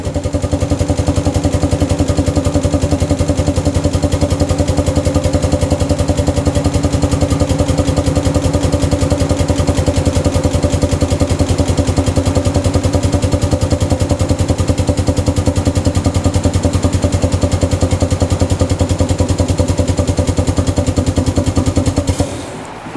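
A food-grade stainless steel drum tipper, model STP02, lifts a drum with a loud, steady electric motor drone that buzzes with a rapid pulsing texture, running unbroken for over twenty seconds before cutting off at the end.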